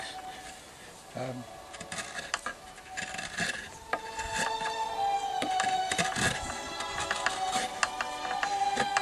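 A large wooden bowl is carved by hand, producing scattered rasping scrapes and gouging strokes that are fairly quiet and irregular, with bursts of cutting spread across the whole stretch.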